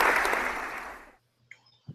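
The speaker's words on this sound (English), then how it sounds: "So let's give him a round of applause." Short burst of podcast applause sound effect, dense crowd clapping that fades out after about a second, followed by quiet with a couple of faint small knocks.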